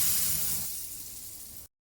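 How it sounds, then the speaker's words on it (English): Hot tempering spices for dal tadka sizzle as they are poured onto the dal, a brief, soft hiss that fades out within two seconds. "Heat the reserved spices until sizzling and pour it onto the dal."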